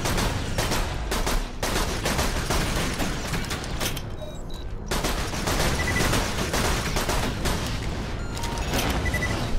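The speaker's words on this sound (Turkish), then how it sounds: "Füze yolluyor uzaktan." Enemy missiles and gunfire from afar in the Borderlands 2 video game: a dense, unbroken barrage of blasts and rattling shots, loud and steady throughout with no voices.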